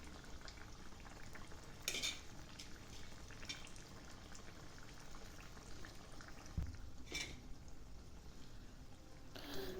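Rice flour neyyappam deep-fry in oil, giving a faint, steady bubbling hiss broken by a few soft clinks of a utensil turning them. No voices are heard.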